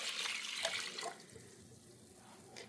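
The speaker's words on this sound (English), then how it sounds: "Pour apple juice into your saucepan." Apple juice pours into a saucepan in a home kitchen, a close, bright splashing stream that tapers off into softer trickling and drips.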